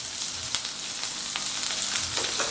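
Garlic, green chilli, onion and coriander stalks frying in a pan for paneer shashlik, a soft steady sizzle with faint crackles and light stirring, quiet throughout.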